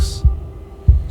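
A wooden and fleshy heart beats in the game Slay the Princess, two loud, deep thumps in slow, even rhythm over a steady low hum.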